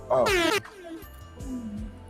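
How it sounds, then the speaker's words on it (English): A short blaring air horn blast opens, followed by a voice talking briefly. "Give me the air horn for that one."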